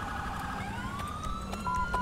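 An emergency vehicle siren in the video game GTA5 with a police patrol mod wails in rising and falling sweeps, steady and moderately loud, with faint clicks and no voices.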